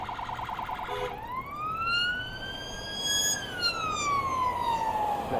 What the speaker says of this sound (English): Now there's a police van coming towards us.